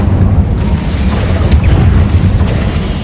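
Incendio fire spell blasting in Hogwarts Legacy, a loud deep boom with rumbling low-end roar that holds steady through the whole span, a brief crackling flare near the middle.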